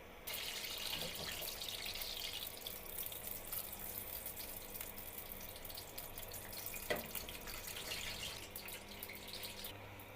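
Tap water runs steadily into a kitchen sink as a whole chicken is washed, a continuous close splash with occasional small knocks and drips and no talking.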